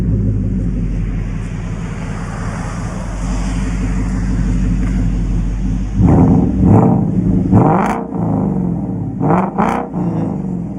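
A Ford Mustang GT 5.0L fitted with an aftermarket exhaust from a smaller maker produces a deep, steady rumble from outside the car, then breaks into several loud revs in quick succession toward the end.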